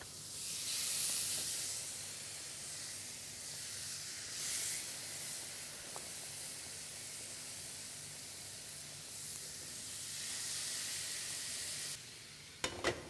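Steady, soft sizzling hiss of tandoori chicken cooking and steaming in an oven, continuous and fairly quiet, with a couple of brief clicks near the end.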